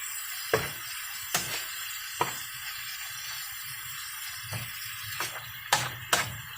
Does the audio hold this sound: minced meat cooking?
yes